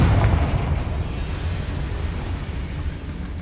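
A Confringo spell explosion in Hogwarts Legacy on PS5, a loud, full, low boom that rumbles steadily through the whole stretch and fades only slightly.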